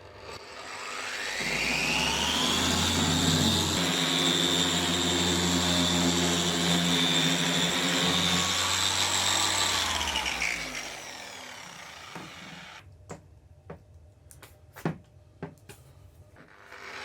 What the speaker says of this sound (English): finished up with a bit of machine polishing